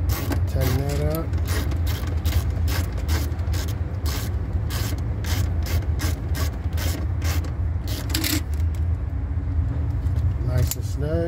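A wrench ratchets in quick repeated clicks while tightening the nut on the main fuse wire of a 2005 Toyota Tundra, close and busy, with someone talking over it.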